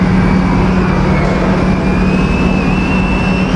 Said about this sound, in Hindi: इंजन बफिंग, यानी इंजन को क्लीन करने का जो काम होता है ना, वो चल रहा था